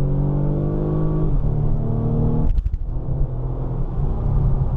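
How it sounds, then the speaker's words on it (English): A turbocharged Mercedes car accelerating hard after a launch-control start, its engine note rising steadily under load with a loud, close rumble and a brief sharp burst midway. "I like the way these turbo spool up."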